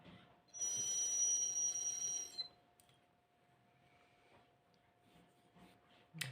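Another traditional clay whistle with a dull tone sounds one sustained blast lasting about two seconds, close and fairly loud, then stops, leaving quiet room noise.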